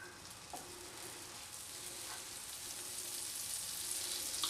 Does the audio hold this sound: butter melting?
yes